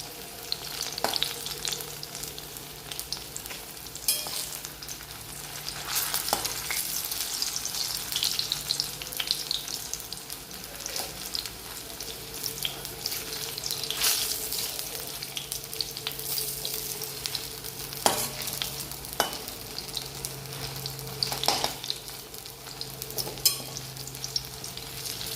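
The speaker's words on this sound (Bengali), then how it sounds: "এবার নাড়বো যেন বেশি পুড়ে না যায়, এইভাবে হালকা লাল লাল করে ভাজতে হবে।" Small potato pakoras frying in oil, with a continuous moderate sizzle and bubbling, broken by occasional scrapes and taps as they are stirred.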